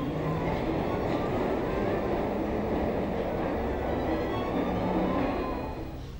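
A London Underground Victoria Line train, 1969 stock, pulling out of the Northumberland Park depot after a wash, a steady rumbling roar of wheels and motors that holds loud and fades slightly at the end.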